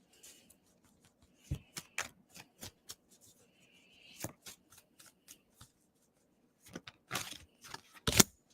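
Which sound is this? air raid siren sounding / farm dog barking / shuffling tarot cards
shuffling tarot cards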